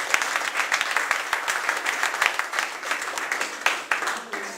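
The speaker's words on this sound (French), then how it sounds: "on peut l'applaudir très fort" An audience at a hypnosis show at a magic club in Menton, France, applauds steadily, many hands clapping in a dense, continuous patter that holds throughout.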